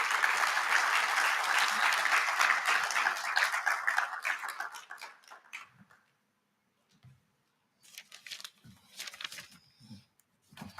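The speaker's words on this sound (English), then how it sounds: "another round of applause, please" Applause from a conference audience at an investment event in Zimbabwe, loud and dense at first, then fading out, followed by a few scattered claps and faint shuffling.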